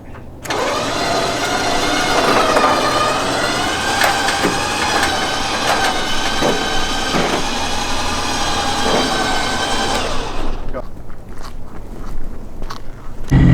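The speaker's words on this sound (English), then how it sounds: "now we are winching it onto the trailer" A winch pulling a 2007 Subaru STI with a frozen starter onto a trailer, a loud steady whining drone with rising tones and occasional clanks that runs for about ten seconds and then stops, leaving scattered rattles.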